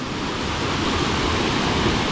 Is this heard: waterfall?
yes